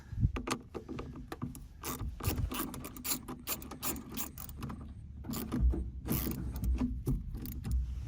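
A socket wrench ratchets off the battery terminal under the rear seat of a 2022-2024 Ford Maverick Hybrid, rapid repeated clicking bursts in quick runs, close and fairly loud with no talking.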